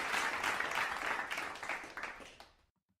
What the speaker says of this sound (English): Just wanted to get that clap out for you.